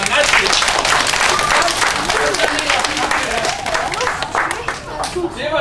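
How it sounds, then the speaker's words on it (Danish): An audience at an onboard entertainment show on the ferry MS Norrona claps for a participant, a steady, full round of applause that holds at a constant level from start to finish and dips slightly near the end. "vi klapper for Barter"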